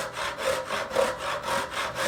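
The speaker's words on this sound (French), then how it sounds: "On fait ce que l'on appelle un sciage en V." Rhythmic rasping strokes of a hand saw making a V-cut through wood for tenon joinery, about four back-and-forth passes at a steady pace, close and clear.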